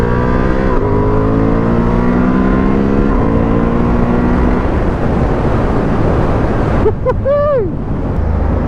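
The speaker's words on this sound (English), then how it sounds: "got her in sport mode now, 36 miles an hour, 37, sport, 2nd gear, let's go." A 2023 Honda Hornet motorcycle in sport mode pulls hard in second gear, its engine note climbing in repeated rising sweeps under rushing wind, then a sharp whining rev swoops up near the end.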